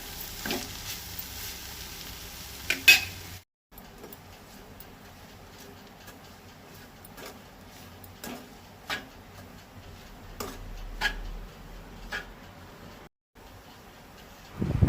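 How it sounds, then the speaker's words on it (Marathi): Onions sautéing in a pan for a Goan mutton masala, a faint low sizzle with occasional spatula taps and scrapes spread across a long quiet stretch, briefly cut to silence twice. "सोय आतां कांद्याचेर बरी परतून घेवंक जाय"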